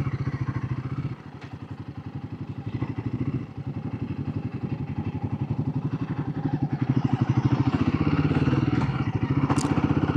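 A 2025 Royal Enfield Guerrilla 450 motorcycle turns around on the road, its single-cylinder engine thumping in a steady rhythmic beat close by, dipping briefly then rising as the throttle opens.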